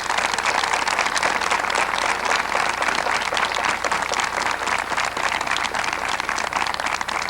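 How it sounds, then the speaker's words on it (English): A large crowd at a university commencement ceremony applauds steadily for several seconds, a dense, even wash of clapping with no voices standing out. "will you show your appreciation for these very important people with a round of applause?"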